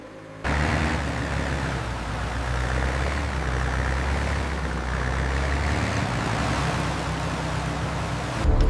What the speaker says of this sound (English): Initiate drainage pumps.